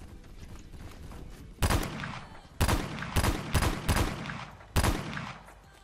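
Several sharp video-game gunshots from a Redhawk .44 revolver ring out over a low background hum, five or six loud bangs spaced irregularly, some in quick pairs.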